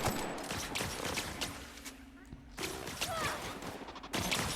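Enemies fire at the player in the video game The Outer Worlds: rapid, crackling volleys of gunshots come in bursts with brief lulls, mixed with game noise and occasional speech.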